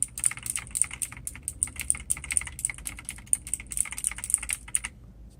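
Rapid continuous typing on a mechanical keyboard with Kailh clicky switches, crisp sharp clicks in a steady irregular stream, close and fairly quiet, stopping just before the end.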